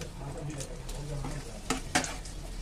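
Kachori fries in hot oil with a steady close sizzle, and two sharper spatula or pan clinks stand out near the end.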